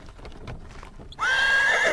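At night near the trees, hooves clop softly at first, then a horse breaks into a loud, close neigh that holds to the end, with no talking.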